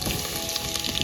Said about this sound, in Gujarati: ત્યારબાદ આપણે લસણ નાખી દેવાનું છે